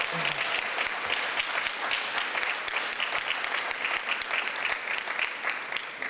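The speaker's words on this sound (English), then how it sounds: "Let's give them another great big round of applause." A crowd at a Hispanic Heritage Month celebration claps steadily, a continuous wash of many hands that stays even and sustained for several seconds, heard from some distance.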